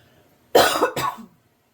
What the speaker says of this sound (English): I'm gonna maybe cough a little bit every now and again